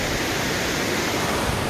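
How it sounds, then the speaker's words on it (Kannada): Water flowing steadily at Belur, a close, continuous broadband rush like a stream or small fall, with no voices over it. "ಇಲ್ಲಿಂದ ಹಿಂಗೆ ಹರಿತೈತೆ ನೀರು."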